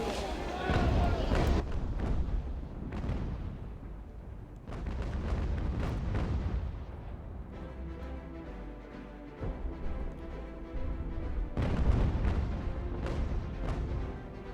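Ship cannons fire at an enemy vessel during a naval battle in the game UGAR, booming in several heavy, loud blasts with rumbling tails, spaced a few seconds apart over background game music.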